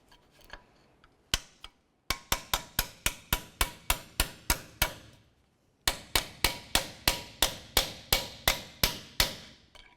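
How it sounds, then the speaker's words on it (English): Brake pads are worked off a caliper bracket on a 2014-2018 GMC Sierra 1500, giving two runs of sharp, evenly spaced metallic clicks or taps, about a dozen each, close and fairly quiet. "The next thing we're going to do is start removing the brake pads from the bracket."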